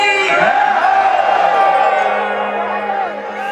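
A crowd at a Navratri Durga procession shouting a loud unison response to a devotional call, a sustained chorus of many voices that fades slightly near the end.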